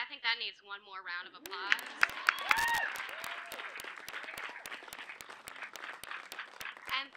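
An audience at a dedication ceremony claps in scattered, sparse strokes while a voice talks at the start and snatches of speech continue over the applause.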